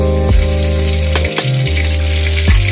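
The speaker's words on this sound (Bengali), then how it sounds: "তেলেই আমি এখন ফোড়ন দিয়ে দেবো, ফোড়ন দেবো একটু জিরে, একটু শুকনো লঙ্কা" Cumin, dried red chilli and garlic hit hot oil for a chilli chicken base, giving a loud, continuous close sizzle with a few sharp crackling bursts and no voices.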